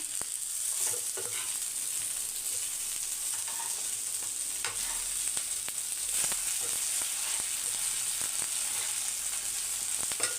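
Brinjal masala roasting in a pan for a kathirikkai masala varuval, a steady close sizzle and fry crackle running throughout with occasional stirring scrapes and no talking.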